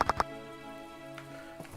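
Steady rain falls in the farming-life game My Time At Portia, a soft even wash behind sustained tonal music, with a few sharp taps near the start.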